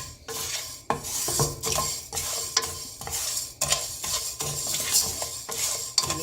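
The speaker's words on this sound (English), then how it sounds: "You need to roast the rice till it attains a light brown color." Raw rice dry-roasting in a pan for black gram laddu, the grains rattling and hissing as a spoon scrapes and stirs them in quick repeated strokes, close and rhythmic with no speech.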